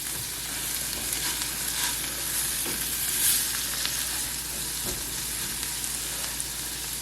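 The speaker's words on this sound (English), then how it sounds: "Kind of blister those tomatoes so they're nice and tender." Tomatoes blister and fry in a hot pan while an omelette is being made, giving a steady, close sizzle with light crackles that runs unbroken for the whole stretch, with no talking.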